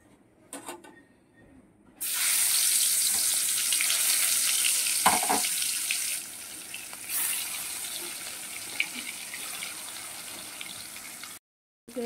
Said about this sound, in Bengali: এবার কড়াটা তেল গরম করেছি, এবার মাছগুলো ভেজে নেব।